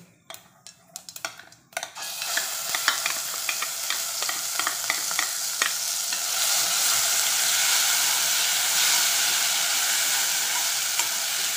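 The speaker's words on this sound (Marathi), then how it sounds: "थोडा फ्राय करू" Ground masala paste sizzling steadily in a hot pan while a spoon stirs it with repeated scraping clicks, for a traditional village-style shengule dish; a quiet start gives way to continuous close frying.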